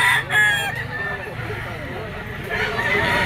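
A gray yellow-legged gamecock bull stag crows close by amid murmuring voices and clucking fowl, the crow rising sharply near the start and another call coming toward the end.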